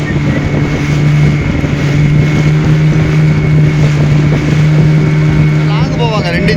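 A sea fishing boat fitted with two engines runs at a steady, loud drone under heavy wind noise off Thoothukudi, and people talk over the engines.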